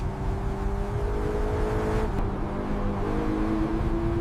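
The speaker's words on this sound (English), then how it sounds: "this is the sound only a naturally aspirated masterpiece can make" A naturally aspirated Lexus car engine drones steadily and loudly, then its pitch jumps and climbs a little as the revs rise.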